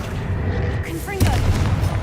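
A Confringo spell blast goes off in Hogwarts Legacy, a sudden booming impact cutting in over a low ambient rumble, with a short whooshing cast just before it.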